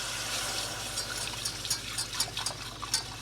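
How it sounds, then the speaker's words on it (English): Milk pours steadily into a pan of cheese sauce made from a mix of shredded cheeses for a ground turkey au gratin, a soft, faint liquid splashing with small bubbling bursts near the end and no talking. "let's start adding some milk"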